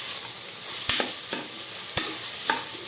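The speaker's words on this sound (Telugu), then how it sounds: "ఇదిగోండి మసాలాలు వేగుతున్నాయి" Green chillies, curry leaves and spices sizzle steadily in a hot pan, a constant crackling hiss broken by a few sharp scrapes and clinks of a stirring spoon.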